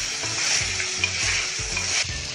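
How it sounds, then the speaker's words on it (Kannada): Garlic paste with kasuri methi frying in a pan for a chicken gravy: a loud, close, continuous sizzle broken by regular scraping stirs. "1 ನಿಮಿಷ ಈ ಥರ ಫ್ರೈ ಮಾಡ್ಕೋಬೇಕು"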